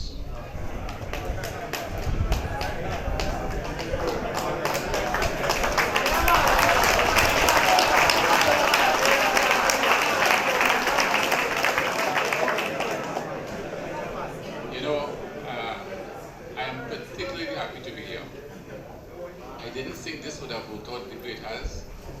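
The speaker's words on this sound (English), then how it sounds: "Give him a round of applause." An audience at a futsal launch event held at a prison breaks into sustained applause that swells, holds for several seconds, then tapers off, with speech around it.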